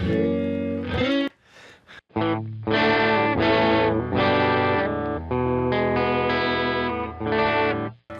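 An electric guitar played through a guitar pedal gives a loud, distorted, chorus-tinged tone, with a few sustained chords and riffs separated by brief dips in volume and no talking.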